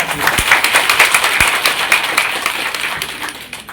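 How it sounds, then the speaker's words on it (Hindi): Crowd applause at a political gathering: dense, steady clapping from many hands that holds for several seconds, with a few sharper nearby claps standing out. "एक बार जोरदार ताली करूंगा"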